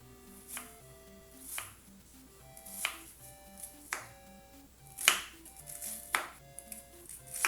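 Chicken being sliced into strips on a cutting board, a series of sharp, close knife taps at a slow, uneven rhythm with quiet pauses between cuts.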